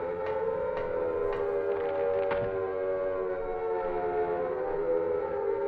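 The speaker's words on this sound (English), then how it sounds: "Air siren victory noise." An air raid siren in the video game Silent Hill holds a steady wailing drone with overtones, alone and unbroken for several seconds, with a few faint clicks over it.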